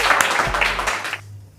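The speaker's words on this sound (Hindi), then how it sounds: "तो जोरदार तालियां हो जाए मिर्जा भाई के लिए" A short burst of audience applause at a poetry recital, loud and dense, fading out quickly at the end.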